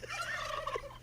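Turkey gobbling, one short warbling rattle of rapid throaty notes, clear and fairly close, with no talk over it.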